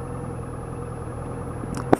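A Honda CBR650F sport motorcycle with a 4-into-1 exhaust through a catalytic converter idles at a steady low, quiet rumble, with a brief sharp knock near the end.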